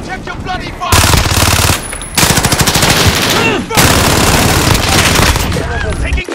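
Automatic gunfire in a Call of Duty Modern Warfare Team Deathmatch multiplayer match, loud rapid bursts in repeated sustained stretches with brief gaps, shouted callouts mixed in.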